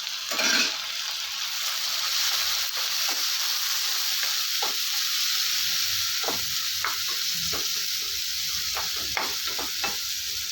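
Steady hissing sizzle of onion and tomato frying in a pan, with occasional scraping and stirring clicks, close by, no talking.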